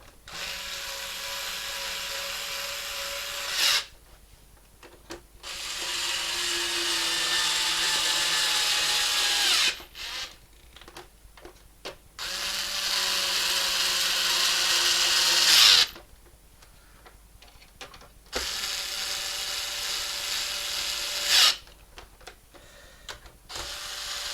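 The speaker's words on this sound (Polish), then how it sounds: "Wkrętak jedziemy." A power screwdriver drives screws while an Xbox console is being reassembled, giving several whirring runs of a few seconds each with short quiet pauses and a sharp tightening jolt at the end of some runs.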